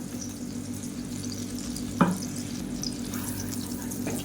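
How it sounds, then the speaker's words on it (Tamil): Ground garlic and pepper sauté in butter in a pan with a soft, steady sizzle, broken once by a single spoon clink against the pan. "சேர்த்துட்டு இதை வந்து ஒரு ரெண்டு நிமிஷம் வதக்கி விட்டுக்கலாம்"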